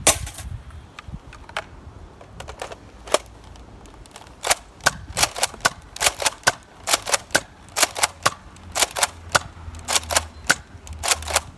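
Nerf Tri-Strike blaster modified to pump action, slam firing darts: a run of sharp, close pops coming quicker and steadier as the clip goes on, with pump clacks between the shots and no talking.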